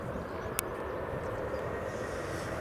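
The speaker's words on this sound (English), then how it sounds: "Ryanair 737 is lined up on runway 24" A Ryanair Boeing 737 jet lined up on runway 24 at Edinburgh Airport emits a steady, distant engine roar with a faint hum and no talk.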